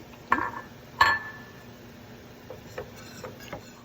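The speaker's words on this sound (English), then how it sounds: "Add your mozzarella. Very good. Stir that in" A utensil stirs mozzarella into a cream sauce, producing a few sharp clinks against the pan followed by softer, fainter taps and scrapes, with no talking.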